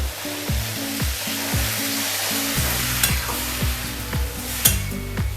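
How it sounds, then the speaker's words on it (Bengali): Water poured into a sizzling vegetable curry masala in a pan, a loud continuous hiss and bubbling sizzle close by, with a few sharp spits and pops. "এবার আমি এর মধ্যে একটু জল অ্যাড করব।"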